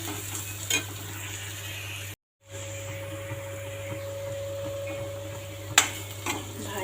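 Spine gourd vegetable with turmeric being stirred in a pan, a low steady sizzle and hum with occasional clinks and scrapes, a brief dropout partway, no voices.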